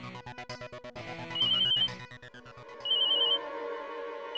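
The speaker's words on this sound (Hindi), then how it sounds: "घंटी बज रही है।" A mobile phone rings loudly and close by, its electronic ringtone repeating in a chirping, tonal pattern with short bursts that swell and pause, and no voices over it.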